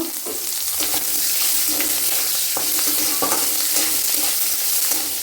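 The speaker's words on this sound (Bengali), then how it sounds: "এবার আমি পেঁয়াজটা দিয়ে দিচ্ছি ভাজার জন্য।" Onion sizzling in hot oil with mustard seeds, curry leaves and dried chillies, a steady loud fry broken by repeated scraping strokes of a spatula stirring the pan.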